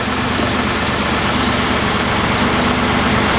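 A Datsun 240Z engine runs steadily during carburetor tuning, a constant dense drone with even low throb and no change in speed throughout.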